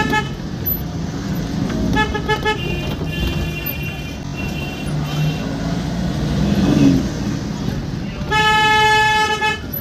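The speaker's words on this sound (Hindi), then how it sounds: "इतनी भीड़ में भी क्यों हॉर्न पे हॉर्न मार रहे हैं।" Car horns honk repeatedly in crowded Kashmir traffic, several long toots standing out over engine rumble and street noise, with people talking nearby.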